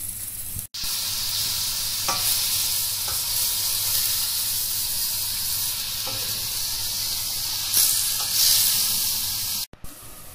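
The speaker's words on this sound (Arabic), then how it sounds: "قليت بصلين، وهلا بدي اضيف الشاورما على فترات عشان تضل المقلة حامي" Shawarma chicken and onions frying in a hot pan: loud continuous sizzling hiss close by, with occasional faint stirring clicks and two brief abrupt cut-outs.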